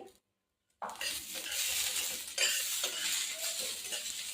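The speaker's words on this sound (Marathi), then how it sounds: "मी पंधरा ते वीस लसणाच्या पाकळ्या कोथंबीर टाकलीये" After a brief silence, garlic cloves and coriander go into hot white oil in a pan and fry with a sudden steady sizzle and light stirring clinks.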